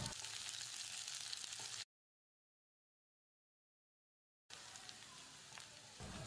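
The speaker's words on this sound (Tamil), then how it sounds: "வெங்காயத்தை கண்ணாடி பதத்துக்கு வதக்கிடலாம்." Steady sizzling of onions sautéing in a hot pan, a soft crackling hiss that cuts out to silence and then resumes.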